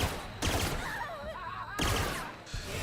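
Gunfire in the sci-fi game The Outer Worlds, two loud bursts of shots about a second apart with busy combat noise and warbling effects in between.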